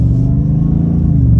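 A 2021 Hennessy Venom 775 F-150 pickup, a heavy two-wheel-drive truck of almost 800 horsepower, gives a deep, loud, steady engine rumble close by.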